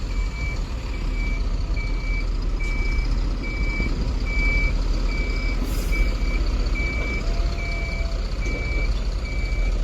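A truck reverses at a ready-mix concrete work site with a crane nearby to unload its load, its backup alarm beeping in a steady, evenly spaced series over a continuous engine rumble, with no talk.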